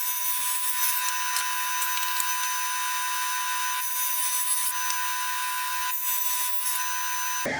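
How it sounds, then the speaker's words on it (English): Old wood is cut into pieces, a continuous loud buzzing saw tone with a high whine running steadily throughout, close and without talk, ending abruptly. "I'll chop this up into manageable pieces"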